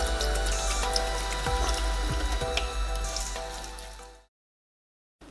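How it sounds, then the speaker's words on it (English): Wet scrubbing and running water hiss steadily as laser-etched stainless steel is cleaned under a tap, with small splashes and scrapes, then the sound stops abruptly. "let's give this a scrub and see if I can clean that off"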